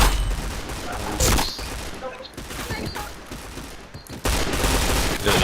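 Rapid gunfire bursts in a Point Blank online shooter match, dense loud volleys with sharp cracks around one and four seconds, while a streamer talks over the action.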